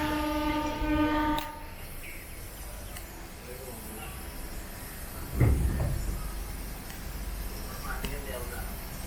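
Passenger train 06889 Trichy at a station, a horn blaring at the start before a low rumble of the train with occasional clanks, voices faint in the background.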